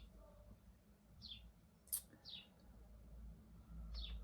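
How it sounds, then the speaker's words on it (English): Birds chirp outside a window: a handful of short, sharp, high tweets spaced apart, faint against a quiet room hum. "I have birds chirping outside of the window."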